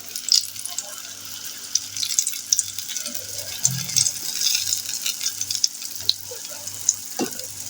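Steady crackling sizzle of dhal puri dough frying in a pan, close by, with occasional soft clinks and a low rhythmic hum beneath.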